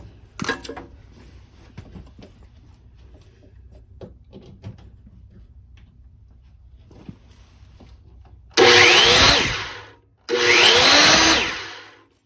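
A miter saw with freshly replaced bearings runs in two short, loud bursts, each whining up to speed and spinning down, after a quiet stretch of small handling knocks.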